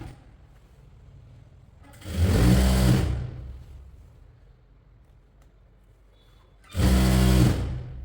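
A sewing machine stitches the folded hem of a kurti lining in two short, close bursts of about a second each, with quiet room tone between them.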